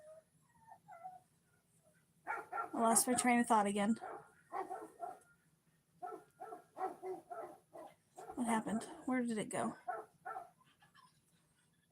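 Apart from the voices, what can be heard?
dog whimpering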